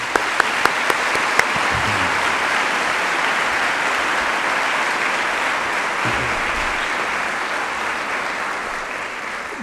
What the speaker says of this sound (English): join me in giving a round of applause to the Applebaum Family Foundation